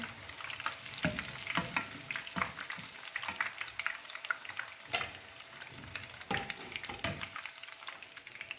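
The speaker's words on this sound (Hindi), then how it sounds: "इसी तरह से बाकी के सारे जो हैं हम फ्राई कर लेंगे" Koftas frying in hot oil in a pan give a steady crackling sizzle with occasional louder pops and stirring clatter, close and continuous with no talking.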